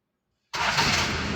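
A 1991 Toyota Hilux with a 3L diesel engine starts on a single crank after a silent moment, catching at once and settling into a steady, loud, close idle rumble.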